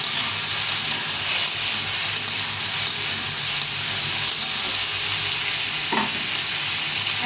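Ridge gourd frying in a pan, a steady loud sizzle with stirring sounds throughout, alone without any talk.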